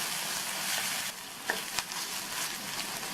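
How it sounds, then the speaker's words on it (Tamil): Green chilies, medium onion and chopped curry leaves sautéing in oil, a dense continuous sizzle close up, briefly dipping then returning with a couple of light stirring clicks. "இது எல்லாத்தையும் ஜஸ்ட்டு 1 நிமிஷம் போல் வதக்கிக்கணும்"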